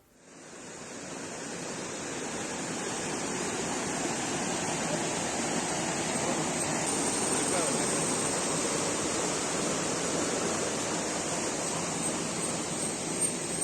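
Floodwater rushing over Pathankayam waterfall in Kozhikode, a dense, unbroken roar that swells in the first second and then holds steady and loud throughout.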